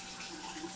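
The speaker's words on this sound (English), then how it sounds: "let's turn the water on" A kitchen water tap runs with a steady, soft rush of flowing water, faint and continuous with no voices over it.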